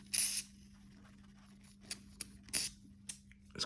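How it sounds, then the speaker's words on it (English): Lithium grease sprays onto the rear brake of a KTM 990 Adventure motorcycle in a few short, quiet hissing bursts, the longest at the start, over a faint steady hum. "I'm gonna use some lithium grease here too"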